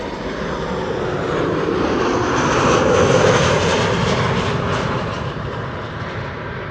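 An airliner approaching to land at Amsterdam Schiphol Airport roars past, a loud, broad engine rumble swelling to a peak midway and then slowly easing off, heard alone without talk.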